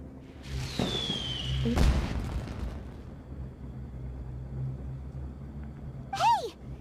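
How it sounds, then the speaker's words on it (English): A short, muffled boom of an explosion in Genshin Impact, preceded by a rising whoosh, with a brief high chirping cry near the end. "Did you hear that explosion?"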